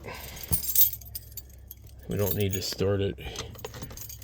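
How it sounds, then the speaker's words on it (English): Keys jangle and clink in a pocket while someone works on a Ford Super Duty truck's shift indicator; brief metallic rattles come near and clear before and between short bursts of speech. "I got too many tools in my pocket and I can't get my keys out."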